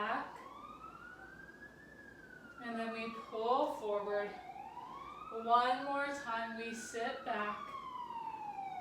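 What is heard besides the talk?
city emergency vehicle siren passing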